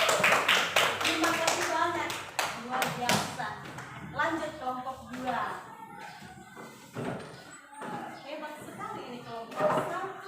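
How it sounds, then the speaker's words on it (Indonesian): Audience applause following a group presentation during a PPG teacher-training exam session in Ambon, heard as bursts of clapping mixed with near voices talking and cheering throughout. "Kita berikan aplaus."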